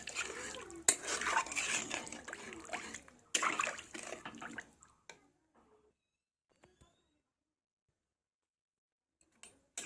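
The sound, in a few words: water being added to fish curry in a pan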